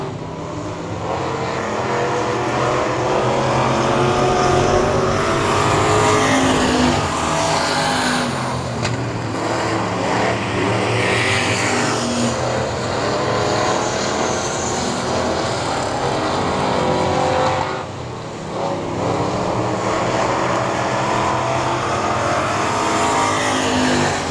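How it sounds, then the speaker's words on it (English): Mini sprint race cars lap Heart O' Texas Speedway, their engines making a continuous loud, droning roar that rises and falls slightly as the cars circle the track. "And Blackburn and Willett turning their fastest laps right now of the race around the outside of Heart O Texas Speedway."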